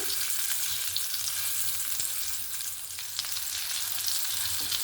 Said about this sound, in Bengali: অপর সাইডটাও হালকা একটু লাল করে ভেজে নেব